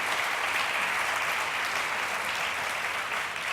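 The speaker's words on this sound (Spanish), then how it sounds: "Un aplauso" A conference audience at a marketing event applauds a speaker, with dense, even clapping that stays loud for the whole stretch.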